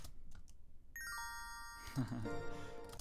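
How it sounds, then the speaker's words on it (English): Cute little bells open a pop-rock song, ringing as a bright cascade of chiming tones that rises and layers over quieter backing, with soft talk underneath. "I also have some cute little bells right here when it starts off."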